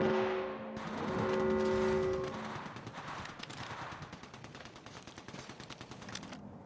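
Rapid automatic gunfire in the shooter game Apex Legends, a dense run of sharp shots after a brief tonal game sound, moderately loud and without talk.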